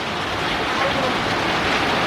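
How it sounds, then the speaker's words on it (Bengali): Heavy rain falls on a city at night, heard from a building as a dense, unbroken roar of steady wash throughout. "কি বৃষ্টি, কি বৃষ্টি!"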